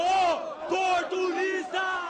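Protesters in a street crowd in Belo Horizonte shout together in loud, ragged bursts, several voices rising and falling in rough chant-like waves at close range.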